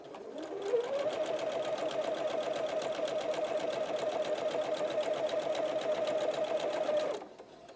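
A sewing machine runs in one continuous seven-second pass while stitching the side of a fabric corner bookmark, a steady close whir with a fast even needle rhythm that starts quickly and stops abruptly.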